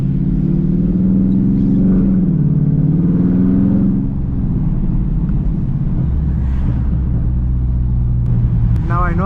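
A Dodge Charger Scat Pack engine runs close and loud, with a rising and falling rev in the first few seconds that settles into a deep steady idle drone, and a quick mechanical chirp at the very end.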